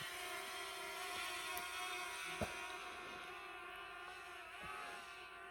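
Small budget S188 GPS drone with a bottom optical-flow camera climbing into the air, its steady whirring motor and propeller hum continuous and fairly close throughout, with faint higher whine layered on top.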